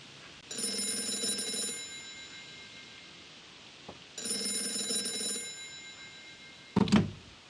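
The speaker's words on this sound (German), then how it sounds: "Ich glaube, das Telefon klingelt gleich." An old-style telephone bell rings in the video game Gray Matter, two bright, sustained bursts about two seconds each separated by a pause, followed by a short sharp clatter like the receiver being lifted.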